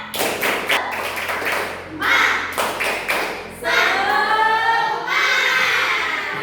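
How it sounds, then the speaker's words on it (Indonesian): A primary school class doing a rhythmic spirit clap routine, with sharp quick claps and thumps in patterned bursts, children's voices chanting between the beats, close and loud. "Tepuk semangat."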